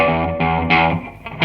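Electric guitar played through a pedal into a Line 6 Pod with reverb switched off, giving a distorted, buzzy tone in a few short strummed chords with sharp attacks, close and fairly loud, with no other sound.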